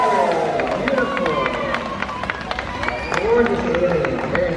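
An audience at an orca show cheers and claps after the whale's jump, with a steady patter of applause and crowd noise and voices talking over it.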